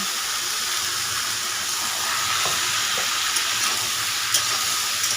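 Bottle gourd goes into a pan of fried tomatoes and sizzles, a steady hissing fry with a few faint clicks and bumps, no talking.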